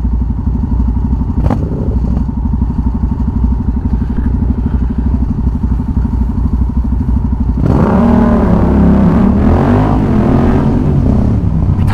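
Motorcycle engine droning steadily from the rider's position, then swelling louder around the eighth second as the bike accelerates, with rising engine tone and wind rush.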